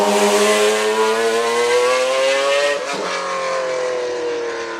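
A McLaren F1 supercar's V12 engine revs hard and loud from start to finish, its pitch climbing steadily in a sustained scream, dipping briefly near the three-second mark before pulling up again, with no voices present.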